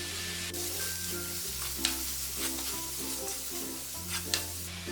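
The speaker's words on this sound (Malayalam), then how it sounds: "ഫ്ലെയിം കൂട്ടി വെച്ചിട്ടാണ് നമ്മളിത് വഴറ്റിയെടുക്കുന്നത്" Bread pocket filling sautéed in a pan over a high flame, with a steady sizzle and the occasional scrape of a spoon stirring it, close up and without talk.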